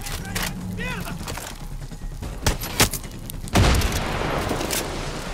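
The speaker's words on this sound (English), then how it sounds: "Why is everything just exploding so easily?" Explosions in Far Cry 6 boom through steady gunfire, with several sharp blasts and one heavy, louder burst near the end, while a voice talks over the action.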